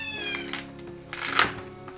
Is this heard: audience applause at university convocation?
no